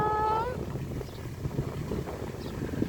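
Gusty wind roars across the microphone in front of a house, a steady low rumble blowing dust about, with a brief tonal whistle at the start and no speech over it.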